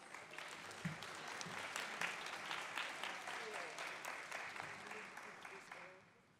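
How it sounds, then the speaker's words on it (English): An audience at a college of pharmacy white coat ceremony for the class of 2024 applauds, a full, even round of clapping from a sizable crowd, fairly soft and distant, fading out at the close. "Please give yourself a round of applause."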